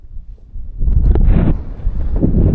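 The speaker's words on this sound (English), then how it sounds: "It's windy." Strong wind buffets the microphone with low rumbling gusts that build and stay loud, a rushing roar outdoors in the Oman desert with sand blowing, no voices.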